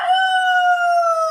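A single rooster crows in one sustained, clear, loud call held steady close by on a goat farm, with a slight drop at the end and no talk over it.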